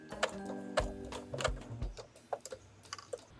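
A sewing machine stitching applique around a fabric petal, short bursts of rapid needle clatter that stop and restart as the fabric is turned, close and fairly quiet.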